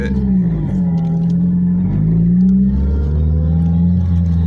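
A supercharged 2004 Ford Focus RS engine runs loud and close, its low drone rising and falling with revs while a metallic rattle clatters through it continuously.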